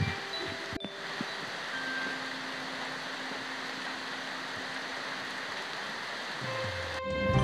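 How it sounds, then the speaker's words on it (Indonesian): Light drizzle falls outdoors at the royal cemetery of Imogiri in Yogyakarta, making a steady, soft, even hiss throughout, with a couple of brief incidental knocks and tones and no talking. "keadaan masih gerimis"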